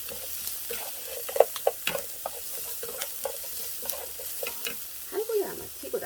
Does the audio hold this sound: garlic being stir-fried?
yes